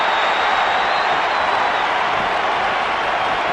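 Steady roar of a capacity arena crowd in the wrestling game WWE 2K19, a dense continuous cheer filling the whole stretch at high level with no distinct claps or voices standing out.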